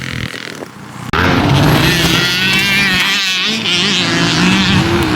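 A Caofen F80 electric off-road dirt bike on a motocross track kicks in abruptly with a loud, rising motor whine over rushing wind and rough track noise, close to the rider.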